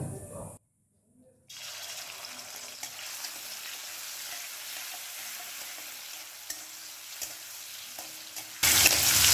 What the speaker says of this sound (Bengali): কড়াইতে দু টেবিল চামচ তেল দিয়ে চিংড়ি মাছটা ভেজে নেব